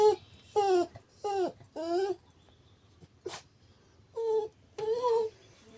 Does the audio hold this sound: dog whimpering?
yes